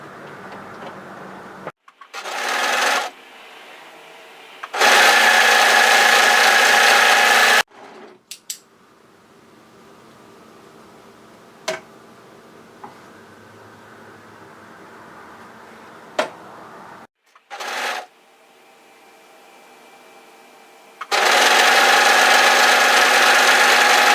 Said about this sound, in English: And we're going to sew the shoulder seams.